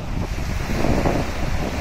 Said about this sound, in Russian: меня уже продувает ветром